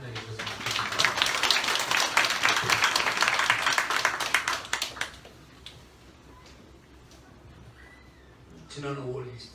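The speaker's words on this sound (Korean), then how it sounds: "신다윗 목사님 나오실 때 우리 박수로 좀 환영해 주셨으면 좋겠습니다" A church congregation breaks into warm applause to welcome a pastor at a church founding thanksgiving service, steady crowd clapping for about five seconds before it fades into room quiet, with a voice speaking near the end.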